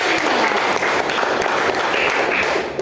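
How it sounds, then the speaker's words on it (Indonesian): Students in a classroom clap loudly for a group that has just finished presenting in a math lesson, a close, continuous burst of applause with no pauses. "kita beri tepuk tangan untuk kelompok yang tadi sudah presentasi ya"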